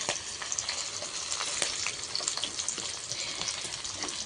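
Ginger-garlic paste with onion and green chillies sizzles and spits in a hot pan, a continuous crackling fry with occasional sharper pops and light stirring, close and fairly loud with no talking.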